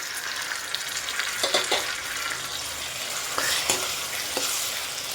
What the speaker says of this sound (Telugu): ఉల్లిపాయలు ఇలా వేగిన తర్వాత ముందే కట్ చేసి పెట్టుకున్న టమాటాని యాడ్ చేసుకోవాలండి